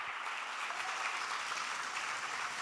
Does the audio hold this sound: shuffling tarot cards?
no